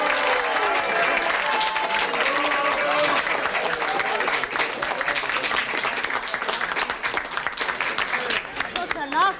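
An audience applauds for several seconds, a dense, even patter of many hands clapping that thins slightly toward the end.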